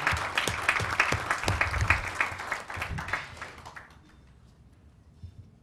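A workshop session audience claps together in a dense burst of applause for about four seconds, then it quickly dies away to near quiet with a few scattered claps.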